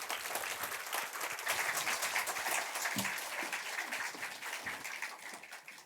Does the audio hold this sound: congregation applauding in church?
yes